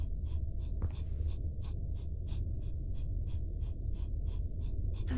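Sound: rapid breathing in a horror video game

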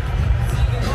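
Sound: stadium crowd applauding at Schalke football match

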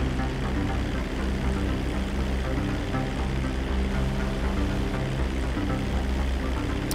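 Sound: propeller plane flying in the video game Grand Theft Auto V

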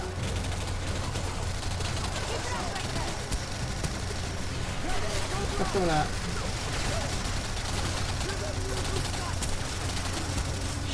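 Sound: auto cannon firing in the video game Singularity

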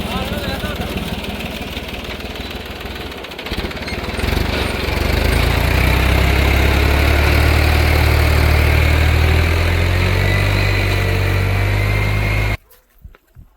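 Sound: tractor engine idling

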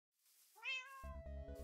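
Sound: cat meowing in Minecraft, video game

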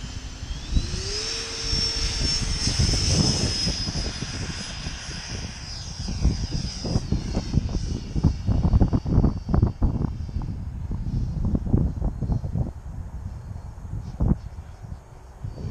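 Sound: HSD Viper V2 RC jet model flying, HRB 4000 on 12S

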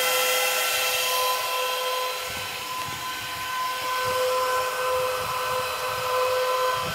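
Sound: Canaan Avalon 1047 Bitcoin miner running

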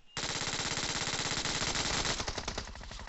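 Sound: gunfire in the video game BGMI

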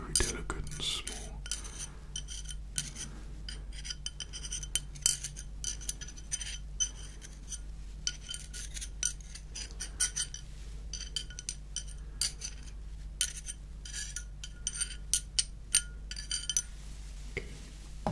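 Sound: metal drill bits being handled and clinking

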